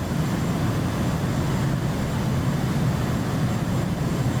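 An F/A-18 Hornet jet in the DCS flight simulator, its engine a steady, loud, broadband roar with a low rumble, continuous and unbroken, with no voices.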